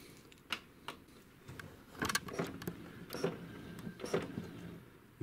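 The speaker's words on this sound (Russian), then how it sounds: "Включаем наш принтер." An HP DeskJet 2130 inkjet printer powers on after reassembly, giving a run of mechanical clicks, ticks and short motor whirs that come close together and grow busier midway, fairly quiet overall.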